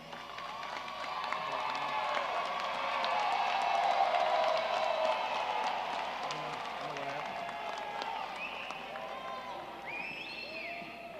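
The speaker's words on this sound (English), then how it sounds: "let's salute them with your applause" Sustained applause and cheering rise from a large audience at a university commencement ceremony, swelling in the middle and easing off, with a few whoops and faint voices mixed in.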